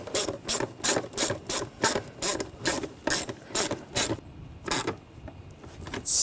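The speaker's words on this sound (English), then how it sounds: "Tighten the worm clamp down." Ratchet tightening a worm clamp on the intake snorkel of a 2009-2013 BMW 328i xDrive 3.0L I6, with close, rhythmic bursts of clicking in repeated strokes that slow and space out near the end.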